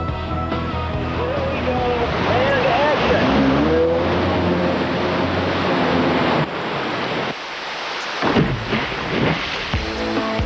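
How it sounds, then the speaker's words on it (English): Loud rushing water and roaring surf with a motor-like drone and shifting engine whine as a jet ski rides off a waterfall over 100 feet high, continuous throughout, briefly dipping before surging again. "stuntwoman Maria Kelly will attempt to ride a jet ski off a waterfall, dropping over 100 feet"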